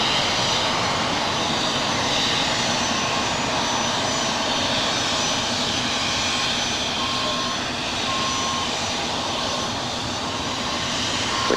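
An airliner takes off from runway 25 right at Los Angeles LAX airport, a continuous broad engine roar holding steady at a distance throughout.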